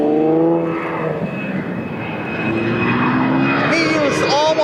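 An airplane taking off from the runway at Portland airport, a loud, close, steady engine roar with rising and falling tones overhead, while people talk over it.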